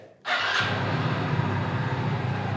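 A Hero Splendor motorcycle engine fires up abruptly after a brief silence, settling at once into a steady, close idle with a low throb and broadband hiss.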